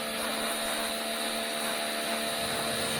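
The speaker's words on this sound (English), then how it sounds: "I got my little cheap power washer there" A small, cheap power washer roars with a steady, loud, continuous hiss and whine while spraying engine parts from a 1967 Camaro build, with no talking over it.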